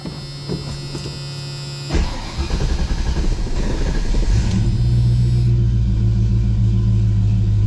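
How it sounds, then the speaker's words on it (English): A loud car fuel pump runs with a steady droning hum and rumble, joined partway through by a stronger low engine-like drone that holds to the end. "My loud fuel pump."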